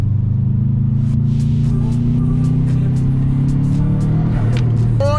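A turbocharged Volvo V40 is driven at a school car show. Its engine gives a steady close-up drone, with the pitch slowly climbing and then falling, a few faint clicks, and no talk.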